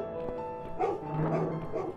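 A dog barks and yips in a horror adventure video game, a few short barks and whimpers at moderate distance over a faint ambient tone.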